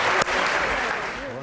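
Lecture hall audience applauding a wave demonstration at a physics talk on waves, a steady dense wash of clapping throughout with a voice speaking over it.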